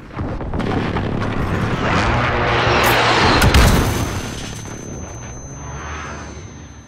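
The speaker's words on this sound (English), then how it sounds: "Friendly precision airstrike inbound." A precision airstrike in the video game Call of Duty Modern Warfare rolls in as a loud, sustained rumble of heavy explosions, with booms building to a peak midway before tapering into a fading roar.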